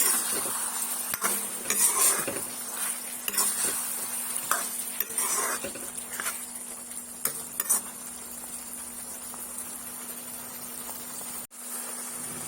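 A spatula scrapes and stirs fried potato pieces in a pan for fish curry, with a light sizzle of frying oil and irregular clinks against the metal, alone and close with a steady faint hum.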